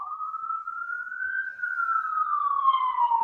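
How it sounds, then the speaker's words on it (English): A single siren wails from outside, one slow rising and falling tone that swells and fades as it passes, heard clearly with nothing else over it. "I've just given the siren a chance to pass because I I think it's know. probably going to overwhelm everything."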